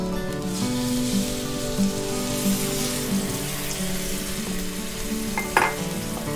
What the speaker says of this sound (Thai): เสร็จแล้วก็คนให้ละลายให้น้ำตาลละลายเข้ากันเลยค่ะ